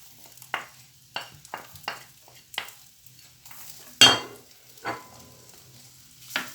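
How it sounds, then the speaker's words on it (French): Cut lamb and chopped onion sweating in a pan for a tajine, a light sizzle broken by stirring scrapes and a few sharp clanks of a utensil against the pan, close and without talk. "suer la viande avec l'oignon"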